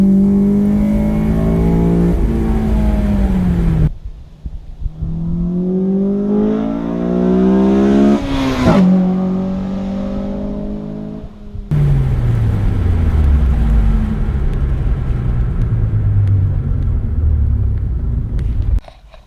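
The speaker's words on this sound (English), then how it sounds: "Okay, we're gonna go second gear pull." Honda Civic Si (FA5 generation) accelerating hard through a second-gear pull from about 4,500 RPM, engine note rising steadily in pitch, loud and close, with a brief drop between two climbing pulls as revs fall and rise again.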